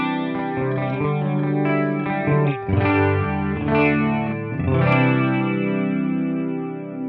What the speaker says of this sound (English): So it's a fairly nice detune setting if you want to basically make a clean sound, give it a little bit of a chorusing type effect.